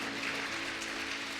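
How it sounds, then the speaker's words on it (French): A church congregation clapping during a fasting and prayer service, a brief burst of dense, steady applause at moderate distance with no voices over it. "We clap for the Lord."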